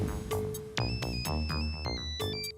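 A mobile phone plays a loud, melodic ringtone indoors in a sitcom scene. A bright repeating tune of chimes and steady tones sounds close, with no talk.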